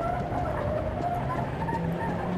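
A car engine hums and revs in the video game Garry's Mod, with a squealing tire skid, continuous and fairly near.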